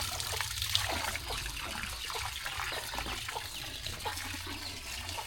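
Water pumped into an earthen fish pond, a continuous trickling, splashing flow with a low pump hum underneath, close and steady.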